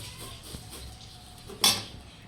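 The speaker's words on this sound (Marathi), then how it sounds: "छानसे असे खरपूस भाजून घ्यायचे हे तांदूळ." Rice roasts slowly in a pan over low heat, with soft scraping and shuffling of grains and one sharp metallic clink of a spoon on the pan near the end.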